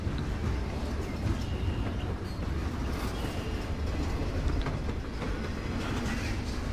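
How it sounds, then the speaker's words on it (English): A train rolls past a junkyard in the video game Life is Strange, giving a steady, continuous rumble with broadband rattling and clatter that holds at an even level throughout, with no talking. "Junkyard with train."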